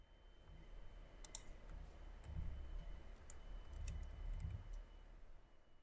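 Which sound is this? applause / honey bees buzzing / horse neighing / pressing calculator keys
pressing calculator keys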